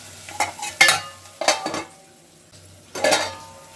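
A spoon stirs onions with chili powder in a pan, producing a few close, loud metallic scrapes and clinks against the pan over a faint sizzle.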